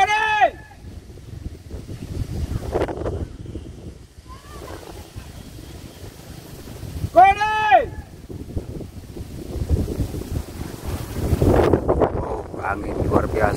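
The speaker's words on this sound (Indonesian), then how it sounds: "Angin luar biasa." Strong wind roars and buffets the microphone at the Huyula Alanggaya Buliya kite-fighting arena, steady and loud, with a few brief vocal calls cutting through the gusts.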